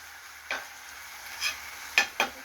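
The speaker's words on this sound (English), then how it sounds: "So give it a stir. Stir in your meat." Meat stirred into a simmering homemade meat sauce with tomato, garlic and vegetables, a faint steady sizzle broken by four quick scraping strokes of a spoon in the pan.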